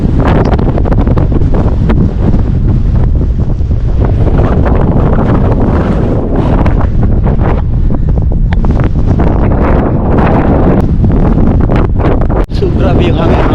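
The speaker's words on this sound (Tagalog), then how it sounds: "Grabe yung lakas hangin." Strong, gusting wind batters the microphone beside a lake in stormy winter weather, a loud continuous roar and buffet with water and surf noise underneath and no clear speech.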